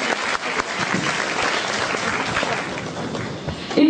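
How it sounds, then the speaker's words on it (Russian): Steady, dense audience applause filling a hall at a restaurateurs' and hoteliers' congress in northwest Russia, continuous many-handed clapping at even loudness throughout. "Аплодисменты!"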